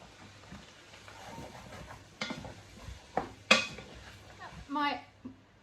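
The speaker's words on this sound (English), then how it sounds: "I'm just going to stir those down, let them cook down for 5 minutes" Chestnut mushrooms cooking in a pan being stirred, quiet with a few sharp clinks and scrapes of a utensil against the pan and a faint sizzle in the background.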